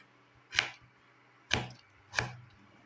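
Potato being chopped into small pieces on a board, three distinct sharp knife strikes spaced about a second apart, close and crisp against near silence.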